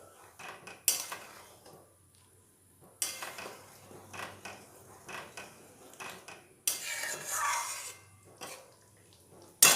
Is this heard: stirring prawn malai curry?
yes